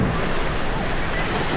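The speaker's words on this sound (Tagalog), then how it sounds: "Kasi nga maganda yung alon dito." Ocean surf rolls in at San Juan, La Union, a steady broadband wash of breaking waves with wind buffeting the microphone throughout, no distinct individual crests standing out.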